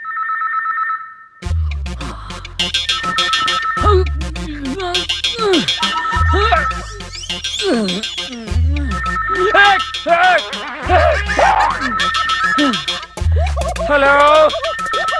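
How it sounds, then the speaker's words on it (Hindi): Mobile phone ringing in a Hindi comedy film: a brief electronic ring, then a loud repeating musical ringtone melody over a bouncing bass pattern for the rest of the stretch. "फोन की घंटी बजा गई। मोबाइल यहाँ पड़ा हुआ है"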